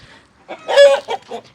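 A rooster and chickens clucking in a farmyard coop give a short, loud burst of close, throaty clucks and squawks rising to a strained peak, then two briefer calls.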